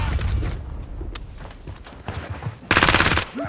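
Loud automatic gunfire rattles in Call of Duty: Modern Warfare (2019) during a hardpoint match with a P90 on the Rust map, scattered shots giving way to a rapid sustained burst near the end, with game voices around it.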